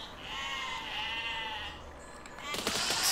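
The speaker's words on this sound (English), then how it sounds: "Please don't run into that bomb sheep." Sheep bleating in the physics-based building game Besiege, one long wavering bleat up close, followed by a burst of crackling explosion-like noise at the end.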